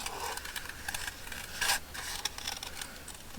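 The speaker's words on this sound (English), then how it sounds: "let's just cut the excess paper off" Scissors cut excess paper from a pinecone-shaped pocket, making close, dry rubbing and scraping snips in a loose, uneven rhythm with a brief louder crunch midway.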